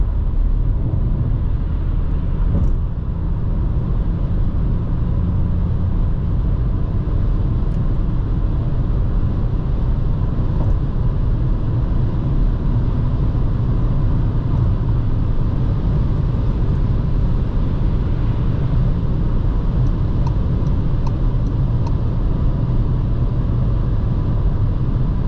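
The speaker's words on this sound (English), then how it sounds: "The car is pulling nicely." A 2022 VW Polo Life with the 1.0 TSI 95 hp engine and 5-speed gearbox driven at night gives a steady, loud low drone of engine and road rumble with no voices and no sudden changes.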